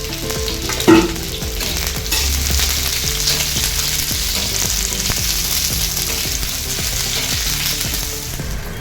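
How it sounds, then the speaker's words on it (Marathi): Onion frying in oil until dark for Nashik-style misal, a loud, continuous close sizzle with a knock near the start and soft clunks of stirring throughout. "कांदा चांगला काळा भाजून घेते मिसळसाठी आपल्याला खोबरं आणि कांदा काळा चांगला भाजून घ्यायचा आहे तेलामध्ये"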